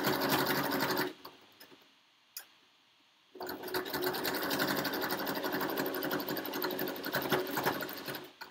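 A sewing machine stitches quilting fabric for a Dresden plate block, whirring steadily and close, pausing for about two seconds before running again at an even pace.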